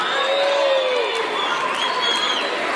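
A crowd of students at an anti-smoking event in Zeytinburnu cheers and applauds, a dense continuous roar of voices and clapping with scattered whoops and shouts, loud and sustained throughout.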